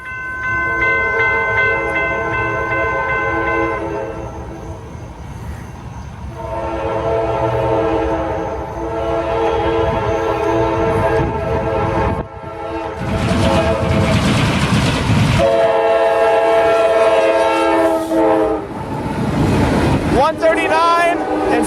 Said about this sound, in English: We have CSX intermodal train Q045 that's coming from Jacksonville to Tampa.